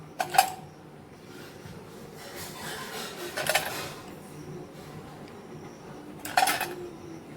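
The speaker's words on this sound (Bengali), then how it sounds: "একটা একটা করে আমি ঢাকনা দিয়ে দেবো" Plastic lids pressed one at a time onto homemade ice cream containers, three separate sharp clicks and clatters spaced a few seconds apart, close by over quiet room hiss.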